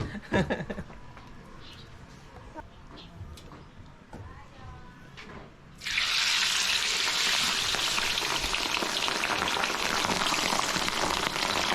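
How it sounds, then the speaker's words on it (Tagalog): Salted pork leg for crispy pata dropping into hot oil in a backyard cooking setup, a sudden loud, steady hiss of frying that fills the second half, with scattered clatter before it starts. "Pagkatapos natin lagyan ng asin, pwede na lang siyang iprito."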